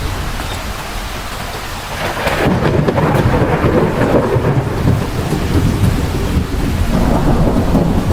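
An evening monsoon thunderstorm brings heavy rain pouring down and rolling thunder that swells into a loud, sustained rumble. The downpour continues steadily throughout.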